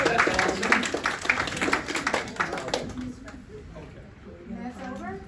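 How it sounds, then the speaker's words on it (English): A workshop audience gives a round of applause, brisk dense clapping for about three seconds that tapers into scattered claps and murmurs. "Give them a round of applause."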